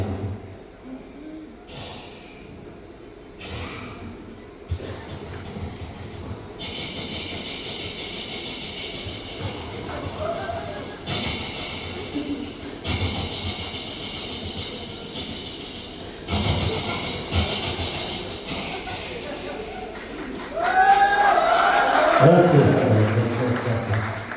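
A voice imitates a passing train with rhythmic bursts of hissing and chuffing that build in loudness, ending in vocal whoops and noise.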